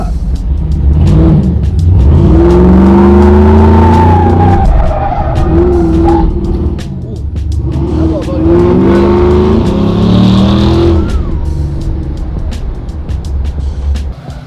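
LSA supercharged V8 swapped into a 1987 Monte Carlo SS, revving loudly and repeatedly with rising and falling engine pitch, close up, with people talking over it.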